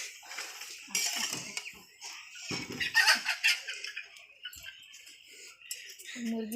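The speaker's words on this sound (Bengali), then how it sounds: "মুরগি ধরা হচ্ছে।" Chickens fluster and cluck as a hen with a rope tangled on its leg is caught at a rural Bengali home, with scuffling, clattering noises and several people talking and calling out over the commotion.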